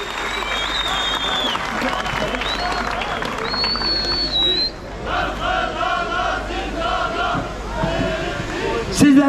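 A rally crowd applauds and cheers at a VANFED event, dense clapping mixed with shouts and whistles that swells and dips across the whole stretch, with a speaker's voice through a loudspeaker at times.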